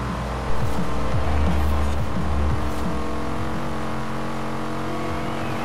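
A race car in the video game Forza Horizon 4 roars steadily at high revs, pulling away loudly with continuous engine drone and faint tire noise, no voices.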